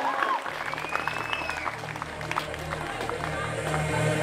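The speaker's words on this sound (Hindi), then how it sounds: "एक बार जोरदार तालियां" A hall audience at a victory celebration breaks into steady, sustained applause, a dense wash of many hands clapping that stays even and fairly loud for several seconds.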